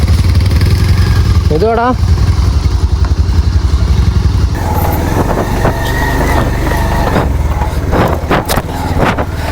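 A motorcycle engine runs with a steady low chug after being restarted following a tip-over, close and loud throughout, while people talk over it.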